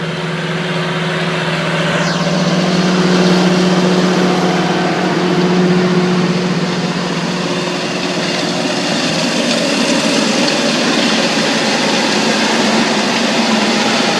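A tractor pulling a cross slot direct drill through a standing mustard cover crop, its engine droning in a steady, loud, unbroken run with a low hum throughout.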